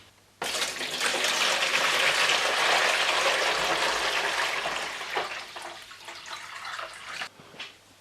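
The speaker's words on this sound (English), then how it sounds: "and add the water." Water gushes steadily and loudly into a keg and carboy washer for several seconds, then tapers off into lighter splashing and trickling before cutting out.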